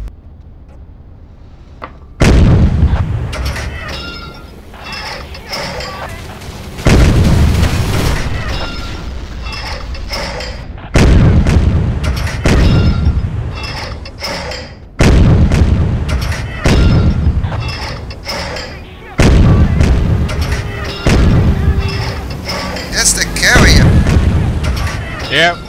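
Heavy naval guns boom in a sea-battle video game set at Leyte Gulf, firing in a series of loud, spaced blasts about every four seconds, each trailing a long rumbling decay, with a voice talking between shots.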